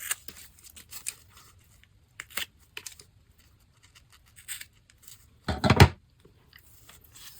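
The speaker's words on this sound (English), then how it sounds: "Now I'm going to trim off the excess zipper." Scissors trim excess zipper tape from a sewn shoulder bag: a few sparse, quiet snips and scrapes in a mostly silent room, then one louder, longer crunching cut near the end.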